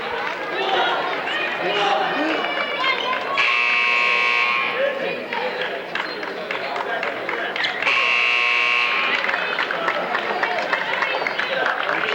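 Buzzer sounding twice, each a long loud blare, over a cheering, chattering crowd and commentary at a high school girls' basketball game in a gym.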